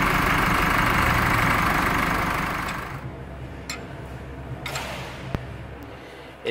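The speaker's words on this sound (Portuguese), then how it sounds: "Esse barulho meio estranho aí é no alternador." A car engine idles with a noisy alternator bearing, giving a loud, rough mechanical whir for about three seconds before it drops to a quieter steady hum with a few faint clicks.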